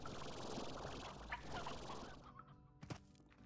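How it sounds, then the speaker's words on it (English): Chickens cluck somewhere back in a cave area of the game Slime Rancher, a soft, distant burble of fowl calls with a couple of sharper clucks near the end, no voices over it. "There's some chickens back there. You heard them."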